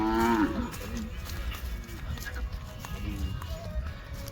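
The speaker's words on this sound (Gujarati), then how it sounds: "ગાયમ આવીને હવે મસ્ત નજારો જોવો ગાયનો." Kankrej cows at a temple cow shelter give a loud, low moo at the start, followed by quieter farmyard bustle with faint hoof steps and voices in the background.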